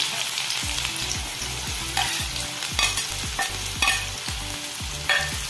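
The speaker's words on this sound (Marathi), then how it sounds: "तर कढईमध्ये आता आपण तेल गरम करायला ठेवलेलं आहे, जवळपास 2 चम्मच आपण तेल घातलेले आहे। त्याच्यामध्ये आपण हा कांदा घालूयात।" Chopped onion frying in about two spoons of hot oil in a wok, with a steady loud sizzle broken by repeated rhythmic scrapes of a spatula stirring the pan, and no voices.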